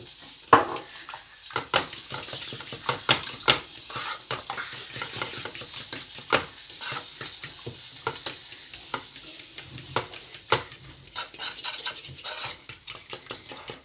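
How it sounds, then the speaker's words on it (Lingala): Eggs, milk, sugar and spices whisked together in a bowl for French toast, a rapid series of close clicking and scraping strokes against the bowl over a soft wet swish, with no talking. "Na baloli yango malamu, nazo balola yango na mélanger yango esika moko."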